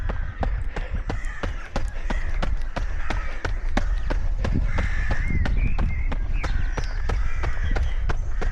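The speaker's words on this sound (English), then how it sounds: "The noise of the crows might give it away." Crows caw repeatedly somewhere nearby along a parkrun course, their harsh calls set over a steady, rhythmic patter of running footsteps and a low background rumble.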